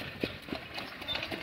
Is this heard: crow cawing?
no